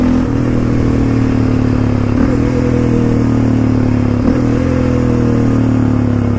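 A quad ATV with a manual clutch drives along in second gear, its engine droning loud and steady with a couple of brief shifts in pitch as the throttle rolls on.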